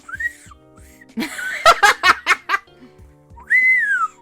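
A breathy whistle rises and falls, broken up by a burst of giggling laughter, then another thin whistled note at the end.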